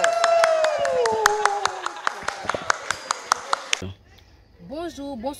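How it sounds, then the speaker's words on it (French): At the Vedette Magazine Awards 2021, distinct claps ring out in a steady rhythm over background music, then stop abruptly as a voice begins speaking. "Applaudissez"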